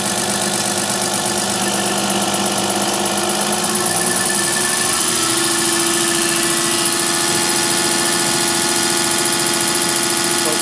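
A 1989 Dodge Ram with a 5.9L Cummins diesel and Bosch VE injection pump runs locked at high idle, a steady loud drone with a faint shift in tone partway through.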